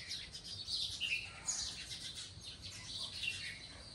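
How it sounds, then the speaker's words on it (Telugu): Birds chirping in the evening in front of a house with a garden: several quiet, bright tweets and calls overlap in irregular bursts against a soft outdoor background, with no talking. "ఎవ్రీడే ఈవినింగ్ టైం మా ఇంటి ముందు బర్డ్స్ సౌండ్ ఇలా ఉంటుంది"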